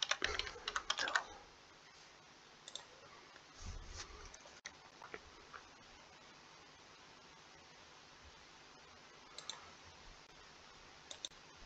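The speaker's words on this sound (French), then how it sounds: "On va taper Gematry." Typing on a computer keyboard, with a dense burst of quick clicking keystrokes at the start, a few isolated taps in the middle and another short flurry near the end, all fairly quiet and close over a soft background hiss.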